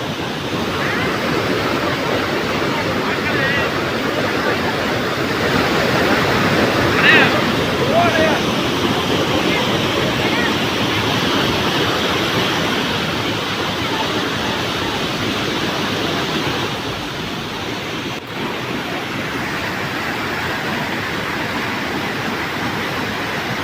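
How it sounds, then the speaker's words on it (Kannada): Kallathigiri Falls near Tarikere in Chikkamagaluru, swollen after days of continuous heavy rain, gives a dense, steady roar of rushing water that holds at an even, loud level for the whole stretch with no voices. "ಜಲಪಾತ ರುದ್ರ ರಮಣೀಯವಾಗಿ ಹರಿತಾ ಇದೆ"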